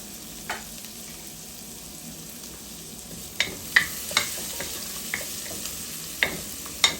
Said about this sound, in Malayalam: ഗാർലിക്ക് നന്നായി മൂപ്പിച്ചെടുക്കാം.